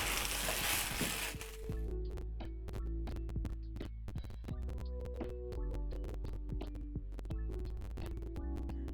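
Chips masala sizzling and frying in a pan as coriander is stirred in, with a loud hiss at first and then steady scraping and clicking stir strokes over a continuous low frying sizzle.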